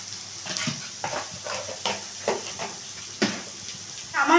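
Spice masala of chilli, coriander and cumin powders cooking in a pan after a splash of water, with soft sizzling and repeated scraping stirs in an uneven rhythm, close and fairly quiet.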